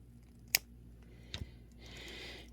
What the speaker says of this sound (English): since we're at the back, we're going to snip off at the back there